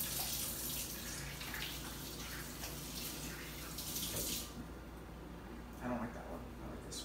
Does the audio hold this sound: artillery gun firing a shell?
no